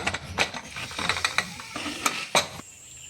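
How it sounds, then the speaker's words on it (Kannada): Pressure cooker lid being closed and locked while cooking bisibele bath, a run of metallic clicks, scrapes and ratcheting clunks, close and fairly loud. "ಕುಕ್ಕರ್ ಮುಚ್ಚಿಟ್ಟೀನಿ"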